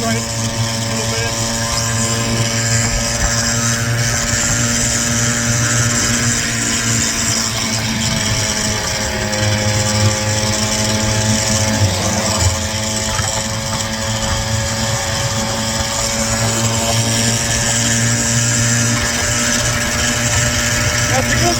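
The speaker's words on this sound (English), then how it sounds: "That's a good scooter. It's powerful." Powerful scooter engine running steadily on a highway ride, a loud continuous drone with rumbling low tones and faint vibration throughout, close and constant with no pauses.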